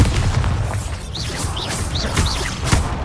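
Booming magical blast from the Bombarda spell in a wizarding game, a dense rumbling burst layered with whooshing effects and sharp cracks over about three seconds.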